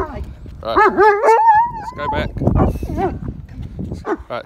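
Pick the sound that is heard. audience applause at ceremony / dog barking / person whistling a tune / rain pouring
dog barking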